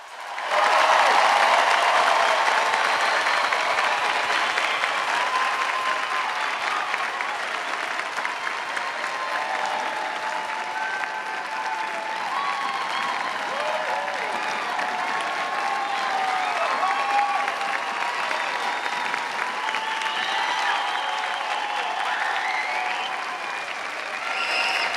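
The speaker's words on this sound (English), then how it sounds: "Let us have a round of applause for these great graduates." A large commencement crowd at UNC Asheville applauds December graduates, with sustained, even clapping from many hands that fills the hall for about twenty-five seconds without letting up.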